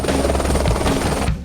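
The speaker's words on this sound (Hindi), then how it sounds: "कैप्टन ने कर दिया हेलीकॉप्टर का इंजन स्टार्ट" A helicopter engine runs loud and close after the captain starts it, a dense steady roar with rapid rotor thumping that drops off abruptly at the end.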